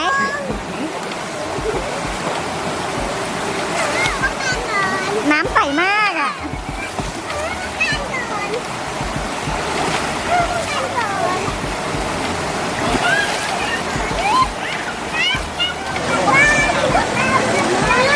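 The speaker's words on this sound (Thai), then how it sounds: "ก็จะได้ยินเสียงน้ำดังมากนะคะ" A stream at a campsite near Kaeng Khoi, Saraburi, in Thailand rushes with a loud, steady, broad hiss throughout, while people talk over it.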